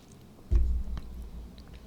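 In-N-Out fast food is chewed close to the microphone, one soft bite followed by a few muffled, wet chewing sounds, with no talk over them.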